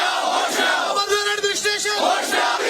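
A protest crowd in Srinagar's Press Colony chants slogans in unison, the rhythmic group voices rising and falling in waves, loud and close.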